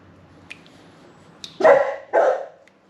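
A dog barks twice, close and fairly loud, two quick sharp woofs after a couple of faint clicks.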